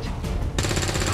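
Sustained automatic weapon fire in the video game X-COM 2 War of the Chosen, a loud, steady stream of rapid shots that grows denser and brighter midway, with no talk.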